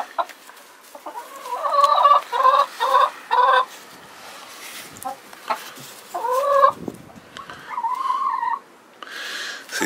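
Polish rooster and hen clucking near the mic, a run of short bursts and a few longer calls in rough rhythm, with quiet gaps between them and no talk.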